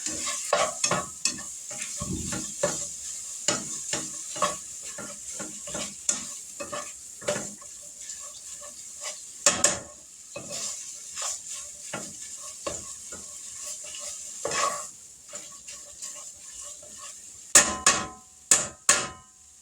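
Sausage for sausage gravy frying in a pan and stirred with a spatula: a steady hiss under repeated scraping clinks and knocks of the spatula against the pan, close and fairly loud, with no talk.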